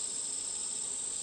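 Honey bees in a hive being combined with another colony give a steady, dense, continuous high buzz, close and even throughout, with no talk.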